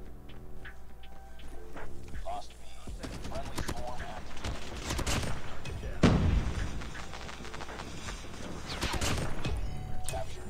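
Rapid gunfire bursts from the mobile shooter game COD Mobile, with sharp repeated shots and thuds running throughout amid game noise, fairly loud and continuous.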